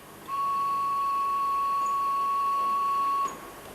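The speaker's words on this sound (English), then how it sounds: "If the robot determines that the situation is very complicated, it whistles for the operator." An industrial robot on a production line gives a single sustained, steady whistle tone lasting about three seconds, loud and clear over a low machine hum in the factory.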